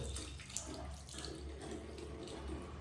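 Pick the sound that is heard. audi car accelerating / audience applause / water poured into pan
water poured into pan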